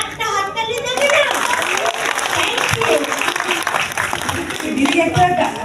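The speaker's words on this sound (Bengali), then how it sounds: "সেগুলোর জন্য একটা হাততালি দেবে না?" Audience applause at the Star Jalsha awards ceremony, a dense sustained wash of clapping filling the whole moment, with crowd voices and chatter mixed in beneath it.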